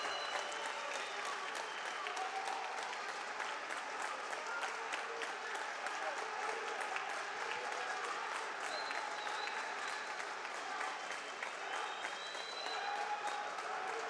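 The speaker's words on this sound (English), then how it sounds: "the crowd give Karl Moiseev a cheer" A wrestling arena crowd applauds and cheers steadily at a distance, a dense continuous wash of clapping with scattered shouts and whistles, while a commentator's voice murmurs faintly underneath.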